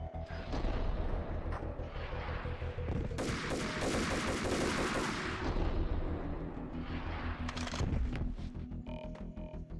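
Gunfire in a Max Payne game, heavy and loud, with rapid shots and booming blasts layered over a dense, churning action soundtrack for several seconds.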